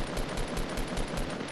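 Rapid automatic gunfire from a Fortnite match, a steady burst of evenly spaced shots at roughly five per second, loud and continuous with no talking.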